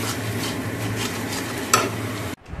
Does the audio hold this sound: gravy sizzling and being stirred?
yes